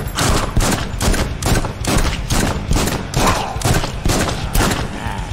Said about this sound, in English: Accuracy on this pistol is low.